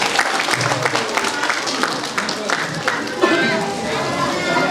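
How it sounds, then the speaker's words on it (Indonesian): A crowd of parents and guests applauds at a preschool year-end celebration, the clapping broad and continuous with voices and chatter mixed into the ovation throughout. "kita berikan tepuk tangan dulu"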